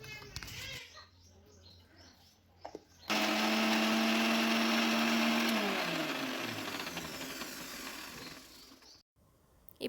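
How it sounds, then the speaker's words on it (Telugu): A mixer grinder whirs loudly for several seconds, grinding cumin, urad dal, green chillies, peanuts, garlic and salt into a chutney for ragi dosa, its motor pitch dropping as it winds down, with brief talk before and after. "సరిపడా ఉప్పు వేసి మిక్సీ పట్టుకోవాలి"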